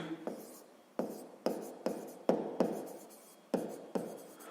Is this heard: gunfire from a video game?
no